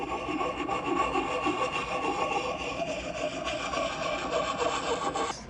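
A file rasping along the blade of a Husqvarna forest axe lubricated with machine oil, a close, continuous gritty scraping in rapid strokes that ends abruptly, with no speech.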